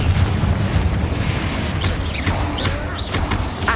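Rumbling blasts from the Confringo fire spell in the video game Hogwarts Legacy, a loud continuous boom with crackling bursts and whooshing streaks layered over a deep low-end roar throughout.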